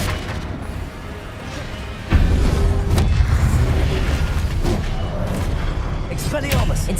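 A Confringo fire-spell blast in Hogwarts Legacy on PS5 hits as a sudden loud boom, then a sustained rumbling roar fades under game ambience with a few crackling bursts.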